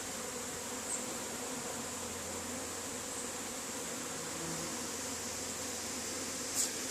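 Honeybees swarm busily around a backyard hive in autumn, a faint, steady buzzing drone throughout with a couple of closer passes.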